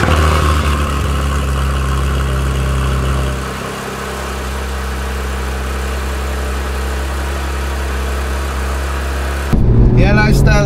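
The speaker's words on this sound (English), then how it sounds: "So, let's get the cold start on this car right now." A Porsche 911 Turbo S convertible engine idles after a cold start, a loud, steady, deep drone that holds throughout and shifts character briefly near the end.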